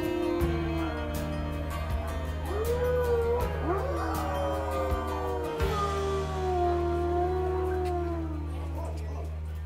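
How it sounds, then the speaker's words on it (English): A young wolf dog pup howls and yips in long wavering, rising and falling notes over a steady low hum, close and fairly loud, while people talk quietly nearby. "Are you gonna howl for us?"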